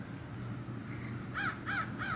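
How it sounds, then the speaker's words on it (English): A huge flock of crows at sunrise, with three loud caws rising clearly over a steady background murmur of distant cawing and outdoor noise. "Sunrise and literally thousands of crows."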